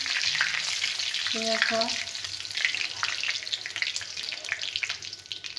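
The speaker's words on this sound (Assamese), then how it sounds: "এতিয়া তেজপাতখিনি তেলত ভাজি ল'লোঁ।" Bay leaves fry in hot oil with a steady, bright sizzle and crackle that runs throughout, close by, with a brief word from a voice over it.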